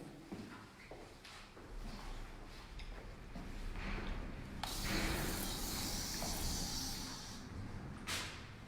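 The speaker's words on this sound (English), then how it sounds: "Let me spray this down just a touch more." A spray bottle mists water onto sectioned hair during a haircut, with a loud hissing burst of a second or so midway and a shorter spritz near the end, over low background noise.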